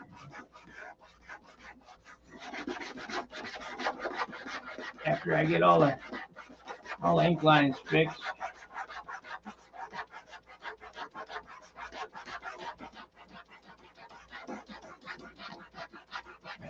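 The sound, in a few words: sanding a model airplane finish with fine-grit sandpaper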